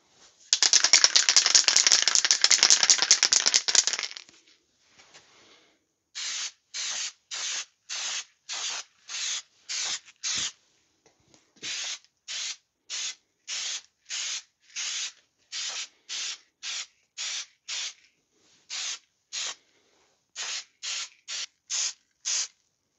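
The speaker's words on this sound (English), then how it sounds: "This is the spray wrapper." Spray wrap hisses onto KTM 690 Enduro motorcycle parts, first in one long continuous burst, then in a steady series of short, evenly spaced spurts, close and clear with no talking.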